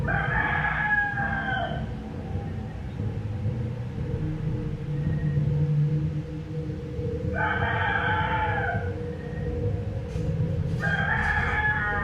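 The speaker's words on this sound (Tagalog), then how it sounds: "Grabe yung manok ah." A rooster crows in the Philippines at about half past one in the morning, with two long harmonic calls a few seconds apart and the start of a third. Each call is loud and near, over a steady low rumble.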